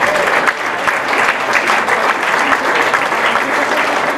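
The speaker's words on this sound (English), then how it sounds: "So I want a big round of applause" Loud, dense applause from an audience at a yacht club gathering, steady and close throughout with no talking over it.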